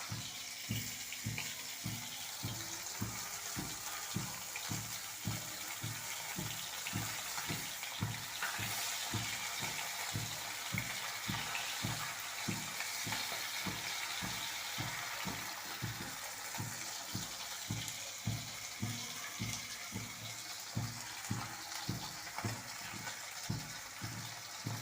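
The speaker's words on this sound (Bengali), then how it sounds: "হয়ে গেছে মাছ ভাজা।" Fish fries in a pan with a steady, even sizzle and a regular rhythmic pulsing bubbling underneath throughout, fairly quiet and alone; no one speaks.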